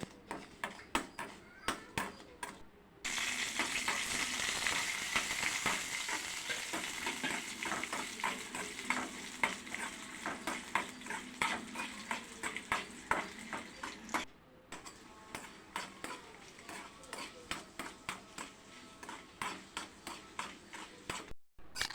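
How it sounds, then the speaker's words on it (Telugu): Dried red chillies and coriander seeds fry in a little oil with a bright sizzle, while a spoon scrapes and taps the pan in quick repeated clicks, close up and with no talk. "కొంచెం ఆయిల్ వేసుకొని ఎనిమిది ఎండుమిర్చి వేసుకొని దూరగా వేయించుకోవాలి"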